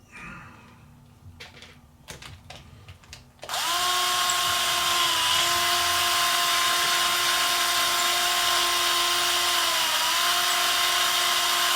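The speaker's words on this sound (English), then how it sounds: "now that we have all the links, we can put the screw back in." A screw is driven back into a moon buggy axle mount with a power driver, giving a steady, high whine that holds for about eight seconds after a few soft clicks and taps of handling.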